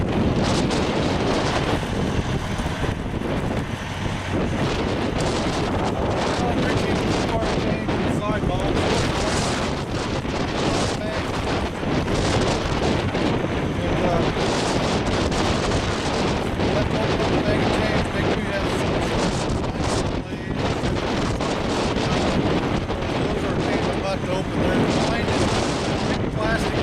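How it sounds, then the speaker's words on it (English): Strong blizzard wind roars outdoors where tire chains are being fitted, a constant, loud, broadband buffeting against the microphone that fills the whole stretch without pause. "As you can see, it is windier than crap out here."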